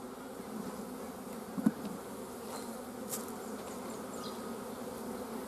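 Honey bees buzz steadily around an open hive during a queen-removal inspection, a dense, continuous drone close by with one soft knock partway through and no voices.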